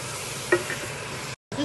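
Caterpillars frying in tomato sauce sizzle steadily while being stirred, with a brief scrape of the utensil, cut by a short silent gap near the end.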